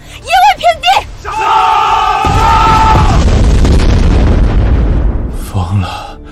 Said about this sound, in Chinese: 快把这些炮弹打出去！